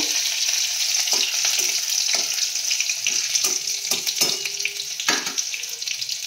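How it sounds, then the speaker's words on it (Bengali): Bay leaf, chopped green chili, cardamom and cinnamon hit hot oil for a flattened-rice pulao tempering, giving a loud, steady bright sizzle with a few soft stirring knocks and scrapes throughout. "এবার আমি ফোড়ন দেব, তেজপাতা, এদিকে কুচনো কাঁচা লঙ্কা, এলাচ, দারচিনি নেড়ে নেব।"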